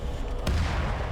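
A single air strike explosion lands in an Arma 3 Warhammer 40k desert battle with tanks, giving a sharp boom that rolls into a low, heavy rumble over ongoing distant gunfire.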